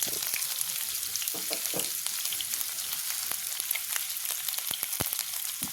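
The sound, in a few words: chopped onion frying in hot oil with mustard seeds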